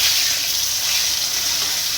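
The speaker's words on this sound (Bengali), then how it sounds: "এই বেগুন ভাজা হয়ে গেছে" Eggplant slices fry in hot oil with a loud, even hiss and crackle that holds steady throughout, no voices heard.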